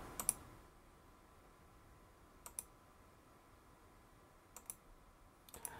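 Sparse sharp clicks, faint and close, come in small pairs and clusters spread over a few seconds, like a computer mouse being clicked on a sluggish Raspberry Pi 4 desktop, with low room hiss between them and no talk.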